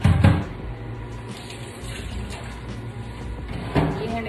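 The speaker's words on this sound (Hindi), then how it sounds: "मैंने थोड़ा सा पानी डाला ताकि मेरा मसाला लगे ना" Water is poured into frying masala for a meat and cauliflower curry, a short splash at the start and another near the end over a steady kitchen hum.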